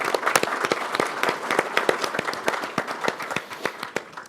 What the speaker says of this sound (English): that was uproarious applause for you